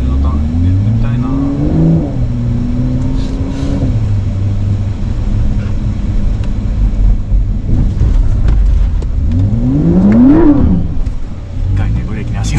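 Porsche engine revving and climbing through gears during a 360-degree turn on a driving course, rising and falling whines close to the car with wind noise, and people talking over it.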